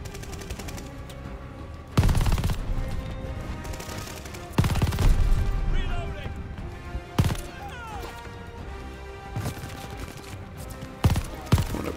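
Gunfire in Call of Duty: Vanguard: loud, sharp broadband blasts and bursts at intervals, some in rapid clusters, over a steady background of game ambience and music with someone talking now and then.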